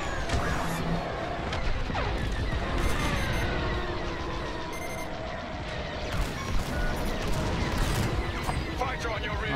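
Rapid starfighter cannon fire in the Star Wars Squadrons space combat game, a dense continuous stream of loud blasts layered over engine hum and game effects, with a voice occasionally talking over it.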